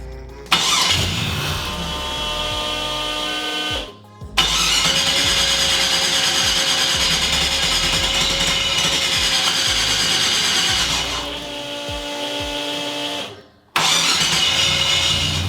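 A car engine cranks and catches after its part was cleaned and refitted, running loud and steady with short breaks where it cuts out and restarts; close and without speech.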